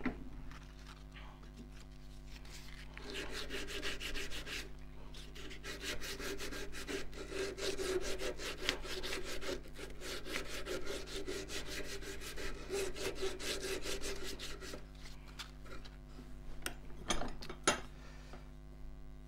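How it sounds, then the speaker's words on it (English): A turned wooden wand hand-sanded in a woodturning shop, a continuous rhythmic rasping rub that swells and pauses, close and moderately loud over a low steady machine hum. "I'll try and sand down a bit more of an angle here"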